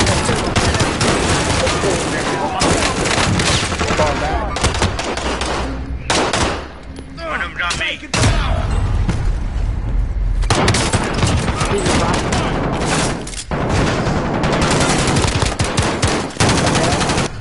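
Sustained automatic gunfire in GTA 5 Online, loud and close, with rapid bursts of shots that pause briefly and then resume, while players talk over the shooting.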